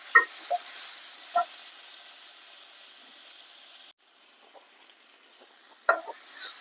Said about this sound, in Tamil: தக்காளி கொஞ்சம் எல்லாத்தையும் கொஞ்சம் நல்லா வதக்கிக்கலாம்.